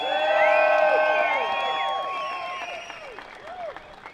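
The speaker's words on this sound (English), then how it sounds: "So give her another round of applause" Audience at a Sydney rally applauds and cheers for the national organiser: sustained clapping with whoops and whistling that swell early, then thin out and taper over about four seconds.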